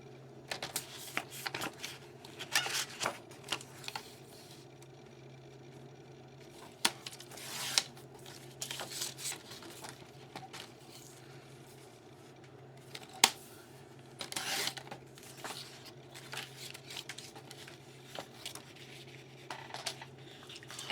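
Paper board being cut to size, with scattered soft clicks, scrapes and rustles of handling and trimming spread unevenly at low volume in a quiet room.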